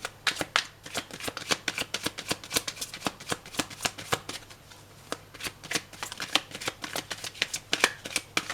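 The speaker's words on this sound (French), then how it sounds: "Voilà, c'est bien mélangé pour vous, Séverine." A deck of fortune-telling cards is shuffled close up in quick, crisp riffles and flicks, repeated in a rapid, uneven rhythm with no voices.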